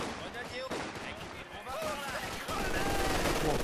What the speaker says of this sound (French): Mitrailleuse MG.